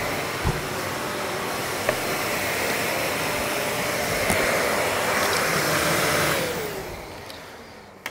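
A vacuum cleaner runs in a woodworking shop, a loud steady whooshing roar that holds for several seconds and then winds down toward the end.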